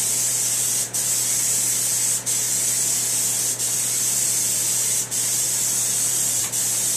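A continuous hiss of spray painting with black paint runs steadily throughout, broken by a few brief pauses where the spray cuts out and quickly resumes.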